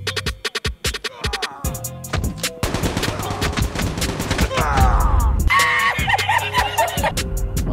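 Gunfire from the mobile shooter COD Mobile comes in rapid bursts and scattered shots, layered with dense game effects and busy chaotic battle noise throughout.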